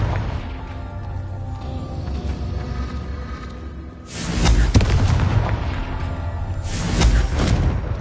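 Confringo fire spell explosions in Hogwarts Legacy, two heavy booming blasts a few seconds apart over a steady game background rumble.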